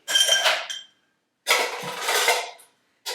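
Ice swirls and rattles in a mixing glass as a Chrysanthemum cocktail with absinthe is stirred to chill and dilute it, heard as three swishing, clattering bursts separated by short silences, close and alone.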